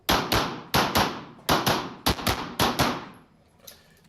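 Rapid bursts of gunfire during a reload drill: pairs and triplets of sharp, loud shots in quick rhythm with brief pauses between strings, echoing and fading toward the end, no talking.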